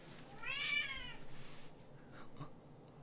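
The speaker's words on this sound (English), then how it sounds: "Let me deal with the cat." A house cat meows once in a drawn-out, rising-then-falling cry close by, followed by fainter quieter sounds in a room.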